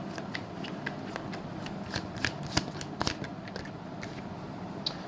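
Tarot cards being shuffled before a single card is drawn: a steady papery riffle and rustle with sharp little snaps scattered through, close by and with no voices.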